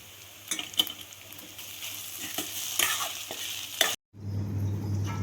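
Curry leaf chitranna rice is stirred with masala in a pan, producing repeated scraping and clattering strokes over a steady sizzle, close and fairly loud, before a brief cut to a quieter hiss.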